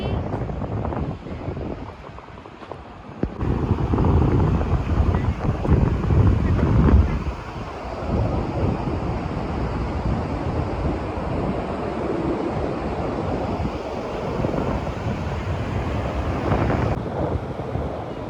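Strong wind buffets the microphone in loud, continuous gusts, rumbling heavily with a low roar, while voices are faintly audible beneath.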